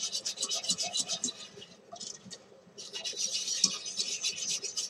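Evaporated milk being whisked into a cheese sauce for cauliflower cheese, a close, steady scratchy rhythm of whisk strokes against the pan, pausing briefly midway before resuming.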